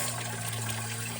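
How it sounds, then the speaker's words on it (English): Water gushes and splashes out of the cooling system of a Morris Minor Traveller during a flush, a steady close wash of liquid lasting about a second. "All the water coming out, a little bit of grime, a little bit of splashing."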